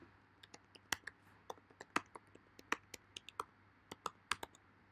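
Rapid, uneven keystrokes on a computer keyboard as a new post is typed, crisp close clicks and taps in bursts over a quiet room hum, with no voices.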